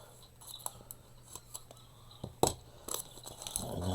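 Scissors cutting a strip off a cellophane bag, a few crisp close snips and crinkles scattered through a quiet stretch.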